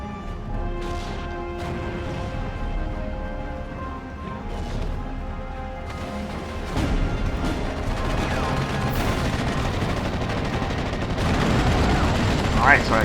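A mortar fires smoke rounds in the WWII strategy game Steel Division: Normandy 44, its dull launches and thuds mixed into continuous battlefield gunfire and crashing that grows denser and louder toward the end.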